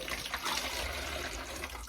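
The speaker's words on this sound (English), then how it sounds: "we need 4 cups of water. And we're just going to put all this" Water pours into an old plastic pop bottle, a short continuous gurgling splash heard close up without speech.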